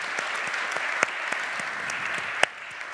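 Audience applause at a French roundtable event, steady clapping from many hands filling the room for the full stretch, with a couple of sharper claps standing out and no one talking.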